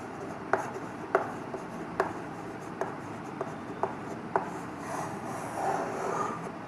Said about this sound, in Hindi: मैं यहाँ लिख देता हूँ क्राफ्ट टेम्परेचर।